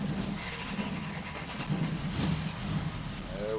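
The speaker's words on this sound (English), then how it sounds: "Washer's on. Oh, it's running again." A pressure washer's engine runs with a steady, droning mechanical hum and rattle throughout, fairly close.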